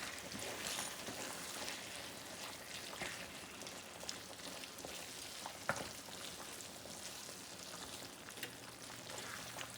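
Frozen vegetables get stirred into a thickened meat and vegetable filling for shepherd's pie in a pan, a soft, faint continuous sizzle and crackle with occasional light scrapes of the spoon.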